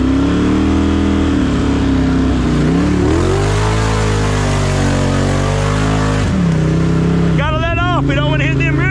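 A four-wheeler ATV engine drones and revs in full drive and low range while slogging through cold, muddy woods, loud and close, with pitch rising and falling as the throttle changes, and squealing strain near the end.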